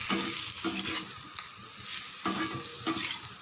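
Potato fry with green chillies sautéing in a pan, heard as a soft, continuous sizzle broken by several quiet stirring scrapes, close up and fairly faint.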